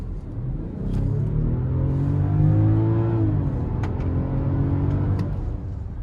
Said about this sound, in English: you see how this car pulls, since I have a really beautiful sound, and a really smooth power when you pull